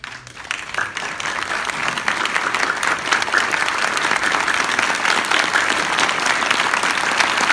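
Applause from a crowd at a community heroes event swells quickly and holds steady as a dense, sustained wash of clapping in appreciation of volunteers.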